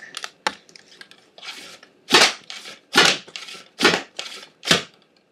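A homemade hopper-fed Nerf bow, driven by its bow arms with no spring and an 11-inch draw, firing foam darts in rapid succession: about six sharp, snappy releases in a quick uneven rhythm, near and loud.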